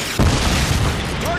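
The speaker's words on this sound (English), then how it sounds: "Friendly Predator missile incoming" A Predator missile blast in Call of Duty Modern Warfare 2 hardcore search and destroy: one deep, loud boom lands early and rumbles on under continuous gunfire-like noise.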